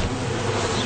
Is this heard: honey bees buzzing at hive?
yes